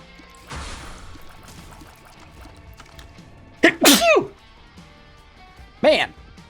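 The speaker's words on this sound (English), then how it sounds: "Sneeze. Summer allergies." A person gives two loud sneezes close up, one sharp burst followed by another a couple of seconds later, over faint background sounds.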